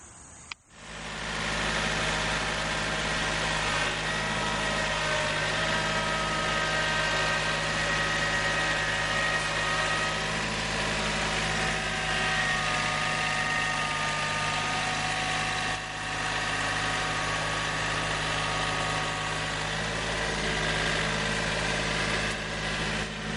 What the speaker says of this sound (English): So what we have is the John Deere